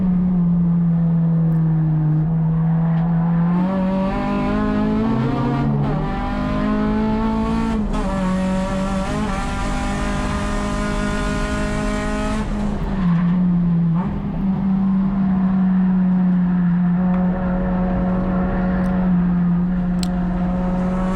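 An Acura RSX race car laps Sonoma Raceway with its engine loud and close, the pitch climbing through the gears, dropping under braking and rising again out of a corner, with faint tire squeal and no voices.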